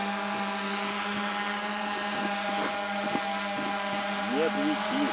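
A Xiro drone hovers nearby with a steady, high buzzing whine from its rotors that holds throughout with slight pitch wobbles, while people talk over it.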